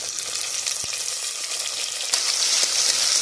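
Tomatoes dropped into onions frying in oil, a continuous bright sizzle with a few soft knocks, the frying swelling louder near the end.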